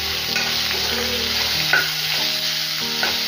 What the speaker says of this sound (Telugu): అలాగే ఉల్లిపాయలు కూడా యాడ్ చేసేసుకొని బాగా ఫ్రై చేసుకోవాలి.